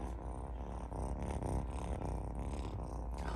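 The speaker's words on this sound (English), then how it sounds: "Already purring" Low, rumbling cat purr, steady and close, continuing without pause over a few seconds.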